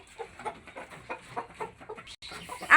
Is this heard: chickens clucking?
yes